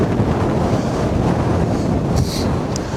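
Strong wind roars across the microphone outdoors beside a river, a constant loud rushing buffet that holds steady throughout with no voices.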